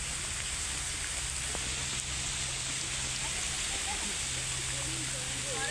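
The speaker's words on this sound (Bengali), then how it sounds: "আসলে এতটাই বৃষ্টি হচ্ছে যে ভিডিও করা পসিবল হচ্ছে না" Heavy rain pours in the Sundarbans mangrove forest, a loud unbroken roar of drops drumming on surfaces, close and constant, with a low steady hum underneath.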